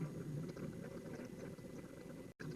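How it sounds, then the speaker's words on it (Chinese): Chicken pieces deep frying in hot oil at about 170 degrees, producing a dense, continuous bubbling close by, with a brief cut near the end. "我们下锅炸制"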